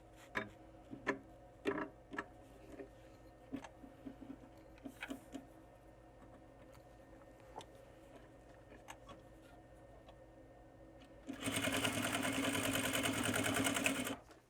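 Sewing machine stitching a fabric sling: scattered handling taps and clicks, then a close, loud, steady whirring run of stitching for about three seconds at the end.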